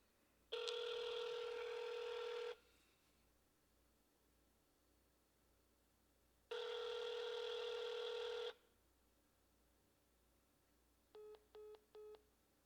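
Two long ringback tones on a telephone call, each about two seconds with a pause between, followed by three short beeps like a hang-up or busy signal. The call is being placed to a state governor's office line in Maryland.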